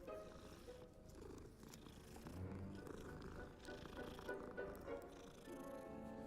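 A cat in Hogwarts Legacy purrs steadily and close for several seconds, a low continuous rumbling drone under a faint wash of game ambience, with no talking.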